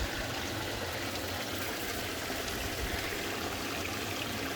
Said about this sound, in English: I want to splash it.